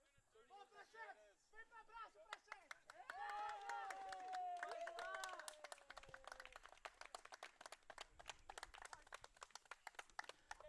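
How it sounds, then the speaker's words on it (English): Spectators and players at a college men's soccer match clap and cheer steadily, with scattered sharp hand claps and a swell of voices that gradually thins out. "The crowd and the teams are cheering"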